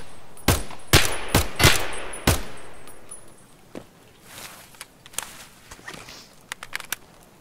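Gunfire in Escape from Tarkov, a rapid burst of several loud, sharp shots in the first few seconds, then scattered fainter cracks and clatter trailing off.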